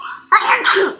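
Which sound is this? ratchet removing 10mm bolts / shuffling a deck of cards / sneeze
sneeze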